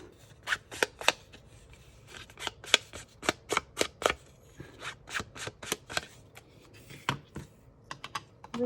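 Edges of a paper card being distressed with a tool, producing a series of quick, crisp scraping strokes in irregular bursts, close up and fairly quiet with no talking.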